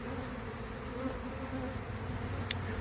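A honey bee swarm in flight outdoors gives off a dense, steady buzz that holds at an even level throughout, with no voices over it.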